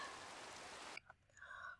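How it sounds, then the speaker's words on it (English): Steady broadband rain patter in Minecraft fills the first second, then cuts off abruptly, leaving faint game sounds and quiet tones. "Watching the rain drip by."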